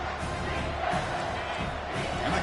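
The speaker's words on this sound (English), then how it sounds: "the crowd coming to life here, trying to help this defense down in the red zone" A football stadium crowd roars steadily during a Miami vs Baylor game as the defense holds in the red zone, a dense, continuous wall of cheering and noise with a faint voice mixed into it.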